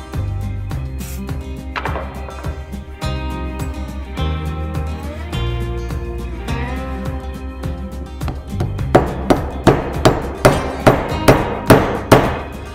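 Hammering with the side of a hammer: repeated sharp blows, irregular at first, then settling into a steady, evenly spaced series of louder strikes near the end, with no talk.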